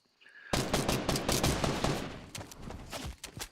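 Rapid bursts of Fortnite video game gunfire, loud and close, starting abruptly after a brief quiet tone and continuing as dense overlapping shots with no talk.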